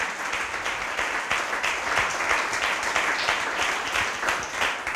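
Sustained applause from an audience at an Italian author's novel presentation, a dense steady wash of many hands clapping that carries evenly through the whole stretch without talk over it.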